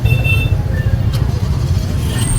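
A street traffic jam: a loud, close, continuous rumble of idling and crawling vehicles, with a brief higher hiss partway through.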